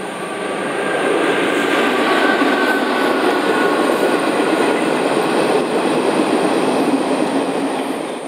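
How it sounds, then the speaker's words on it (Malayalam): A train rolls past on a single line raised above farmland, a loud, steady rumble and wheel roar with faint squeal and rhythmic clatter that swells and holds for several seconds. "അപ്പം നമ്മുടെ കൃഷിയിടത്തിൻ്റെ മുകളിൽ കൂടെ ട്രെയിൻ വരുന്നത്"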